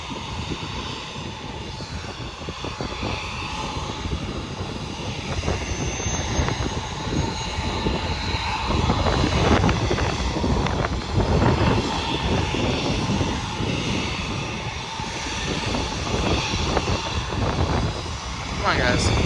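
A C-175 light aircraft engine at Bluegrass Regional Airport in Lexington, Kentucky, gives off a loud, steady droning roar that swells slightly midway and holds for the full length.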